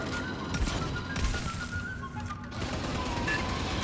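Rapid bursts of gunfire crackle almost continuously over a dense, noisy game soundscape, with a faint high whistle threading through.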